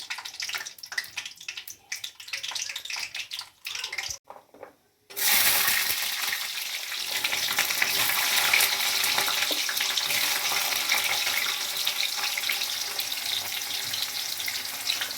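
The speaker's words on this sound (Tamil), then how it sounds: "நம்ம வெங்காயம், கருவேப்பிலை, பூண்டு சேர்த்து வதக்கணுங்க" Onion, curry leaves and garlic sauté in hot oil with fenugreek and mustard seeds, a steady close sizzle that starts abruptly after some scraping and stirring clatter, with no talking.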